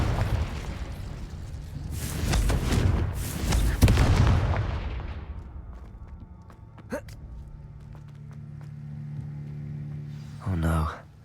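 Fire and explosive spell blasts in the video game Hogwarts Legacy: a run of heavy booming bursts for several seconds, then a sharp single crack and a brief final blast, with someone speaking between them.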